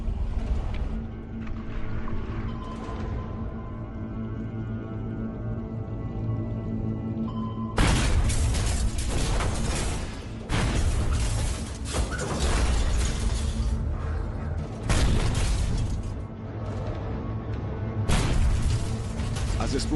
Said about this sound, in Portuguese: a escolta do petroleiro cruza a popa do Silversides e lança 8 bombas de profundidade